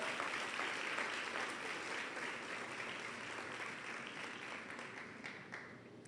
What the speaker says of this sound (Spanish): Oh, dale más fuerte ese aplauso